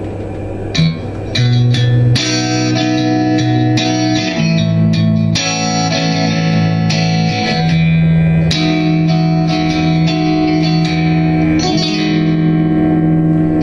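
Bright, sparkly electric guitar chords ring out through an Egnater Tourmaster 4100 amp with the contour switch on at noon, a touch of reverb, strummed and picked continuously at a steady, full volume.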